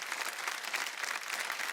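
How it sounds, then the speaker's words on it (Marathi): A studio audience on a Marathi TV show applauds in a continuous, even patter of many hands, moderately soft and sustained without talk. "जोरदार टाळ्या होऊन जाऊ द्या"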